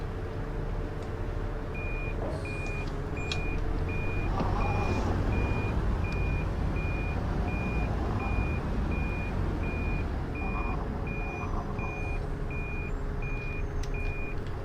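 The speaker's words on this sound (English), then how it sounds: "I love a good reversing horn." A Volvo B7L bus with Wright Eclipse Metro body in the OMSI 2 simulator reverses, its beeper sounding a steady, evenly spaced pulse over a constant loud engine drone throughout.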